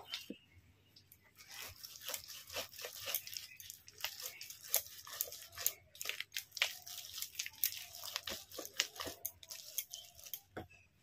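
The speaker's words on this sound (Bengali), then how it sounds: "এরকম ভাবেই আমি তাল ছেঁকে নিচ্ছি।" Softened palm fruit pulp is pressed and strained through a bamboo basket, making quiet, irregular wet squelches, rustles and soft crackles up close.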